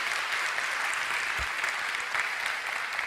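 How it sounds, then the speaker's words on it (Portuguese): Congregation applause at a Portuguese-language gospel church sermon, steady, dense clapping filling the whole moment at moderate distance, with no talking over it. "Me aplaude aí para ver que Jesus está falando com você aí"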